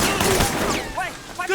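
Gunfire in a Sleeping Dogs shootout, a rapid, loud volley of shots at the start giving way to shouted voices, with faint game sounds continuing underneath.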